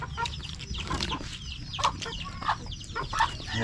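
Several chickens cluck in short, repeated bursts over a low, steady background rumble, fairly close by.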